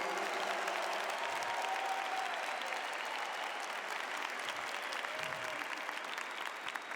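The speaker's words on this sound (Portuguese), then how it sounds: "Pode aplaudir o nosso Deus." Sustained applause from a church congregation during a New Year's Eve Mass homily, a steady dense wash of many hands clapping at moderate distance, continuing without a break.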